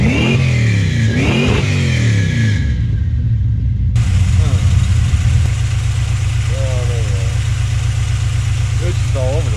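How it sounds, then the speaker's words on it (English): A 1970 Plymouth Duster 340 race car engine rumbles loud and close, rising into revving and settling to a steady deep idle, with voices talking over it. "You rev the piss up like it owes you money."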